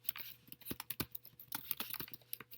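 Rapid, irregular keystrokes on a computer keyboard as a chart title is typed in a spreadsheet, close and crisp with no talking.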